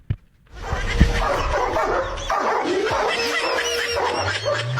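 A dog barks and yips excitedly, several quick, close barks with whimpering tones, following a short sharp knock at the start.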